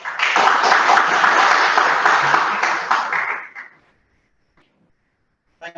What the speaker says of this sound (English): Let's welcome with a thundering round of applause distinguished Toastmaster Avinash Singh.